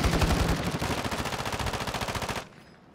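A minigun fires in a video game, a continuous rapid roar of overlapping shots for over two seconds before cutting off abruptly into quiet.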